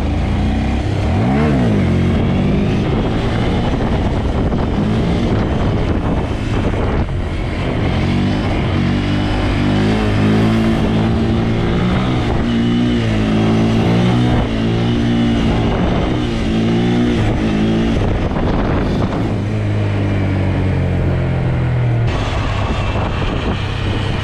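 Busy road traffic in Los Angeles, with car and motorcycle engines revving and accelerating up close in a loud, continuous stream of rising and falling engine tones.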